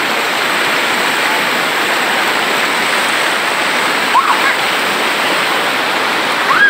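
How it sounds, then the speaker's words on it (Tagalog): Strong rushing river current at Majayjay, Laguna, a loud, continuous broadband roar of churning water close by, with a couple of brief faint shouts in the background. "Yung agos sa tubig dito, grabe oh."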